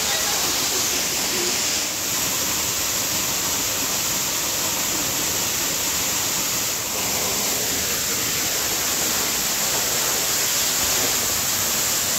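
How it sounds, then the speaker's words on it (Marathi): A waterfall pours straight down in two tiers beside a dry cave in the Maval hills, giving a steady, loud, broadband rush of falling water that holds constant throughout with no talking. "तिथे मस्त डोक्यावरनं डायरेक्ट असा धबधबा खाली पडतोय."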